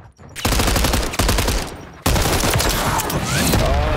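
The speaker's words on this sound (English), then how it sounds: "Getting shot from that end." Rapid automatic gunfire from a video game shooter bursts out loud and close in several sustained volleys, with a short gap between strings of shots.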